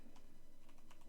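Quick, faint typing on a computer keyboard, a rapid even run of light key clicks heard alone for about a second.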